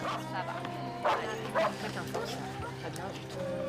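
Dogs at a suspected clandestine breeding operation bark, yip and whimper in short bursts, moderately close, over a steady background hum while people talk.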